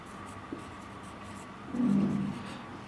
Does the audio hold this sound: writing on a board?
yes